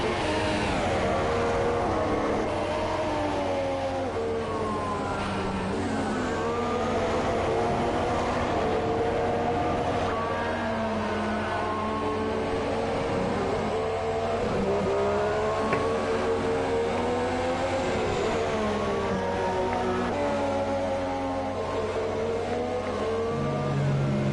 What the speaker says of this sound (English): I'm going to watch this Sauber trundle around for a bit.